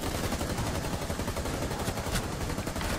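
Dense, continuous gunfire in Rainbow Six Siege's Outbreak mode, rapid shots blurring into a steady loud rattle for the whole stretch, with no pauses.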